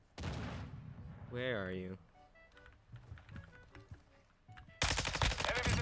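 Grau-style assault rifle fire in Modern Warfare II bursts out as a loud, sustained automatic volley near the end, after a voice and some quieter game sounds.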